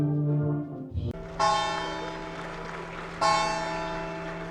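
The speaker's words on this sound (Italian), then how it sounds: "Tutte le volte, ragazzi, che ci avviciniamo a una chiesa, anche negli altri vlog, becchiamo sempre le campane." Church bells ring near an Italian church, two loud struck tolls with long ringing decay following a brief muffled thump, heard close and alone with no talking.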